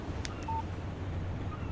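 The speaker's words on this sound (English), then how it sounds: "Text message from Barry." A short high electronic beep pattern sounds over a low steady background hum: a phone text message alert in the video game Alan Wake Remastered, faint and brief.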